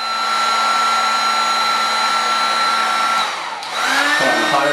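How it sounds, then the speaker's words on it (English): A hot air gun blows a steady, loud whir against gloss paint on a wooden door frame, holding a constant tone before dipping briefly and shifting pitch near the end. "Hot air gun on it."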